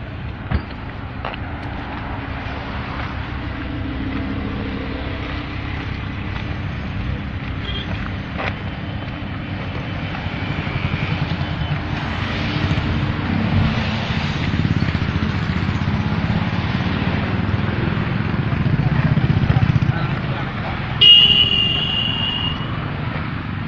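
A Bugatti supercar driving through Kolkata streets, a steady engine and road rumble with wind buffeting, building gradually louder toward the end, heard from a nearby following car, no talk.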